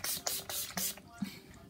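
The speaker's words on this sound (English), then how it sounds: "So I spray in with the Skindanavia setting spray." Skindanavia makeup finishing setting spray misted onto a face in several short, close pumps, each a quick breathy hiss, with a brief pause between bursts.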